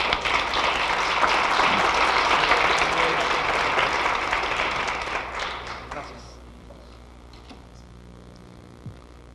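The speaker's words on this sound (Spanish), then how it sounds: "Recibámoslo con un fuerte aplauso, por favor." An audience at a youth and family forum claps loudly together, a dense sustained burst of applause that fades out after about six seconds into a quiet room.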